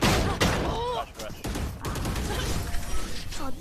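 Loud, repeated shotgun blasts and gunfire in a Valorant match, sharp bangs punctuating busy game sounds, with a voice speaking over the action.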